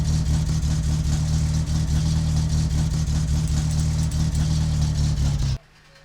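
A car engine in the video game My Summer Car runs steadily with a droning hum and a faint high chirp riding on top, then cuts off abruptly near the end as the car fails to stay running.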